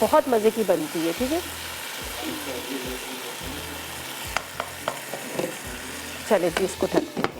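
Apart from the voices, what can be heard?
stirring spinach and lentils together in a pot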